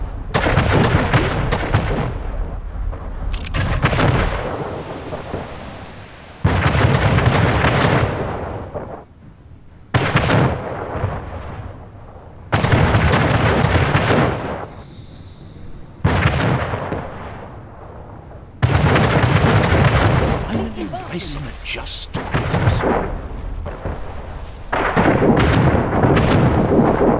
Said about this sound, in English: Explosion in one of your factories.